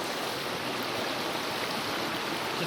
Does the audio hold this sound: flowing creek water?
yes